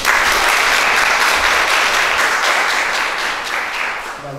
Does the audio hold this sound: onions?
no